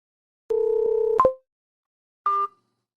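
A landline telephone tone after a call is hung up: a steady electronic tone lasting under a second ending in a click, then a short second beep after a pause, clear and alone.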